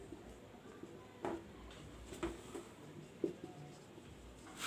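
Pen writing by hand on paper while working an accounting problem, heard as soft, close scratching strokes with a few light taps in a quiet room.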